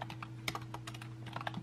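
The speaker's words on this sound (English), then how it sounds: "Don't judge my typing, people." Quick, uneven keystrokes tap on a computer keyboard close by, a steady patter of clicks with a few louder strikes and a low hum underneath.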